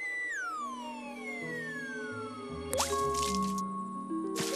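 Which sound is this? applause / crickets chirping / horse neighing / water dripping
water dripping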